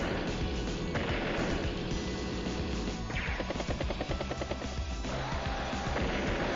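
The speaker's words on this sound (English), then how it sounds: "Use the war tank to strike the battlecopter there." Advance Wars: Days of Ruin battle: a war tank strikes a battlecopter, heard as a loud, dense wash of rumbling blasts and crashing impacts over a steady roar, continuous throughout with no talk.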